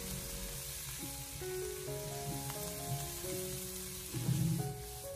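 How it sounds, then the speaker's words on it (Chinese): Blanched diced carrot and corn kernels being stir-fried over high heat in a wok give off a faint, steady sizzle with soft tossing sounds, set beneath quiet tonal background music. "给它快速的翻炒一下，把它翻炒均匀，给它炒出香味"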